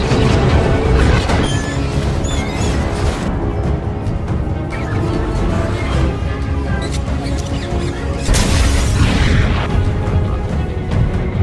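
A dense, loud mix of bursting booms and crashes as rats explode inside a textile factory, rumbling on with a few sharp squeaks and scattered pops over a busy background.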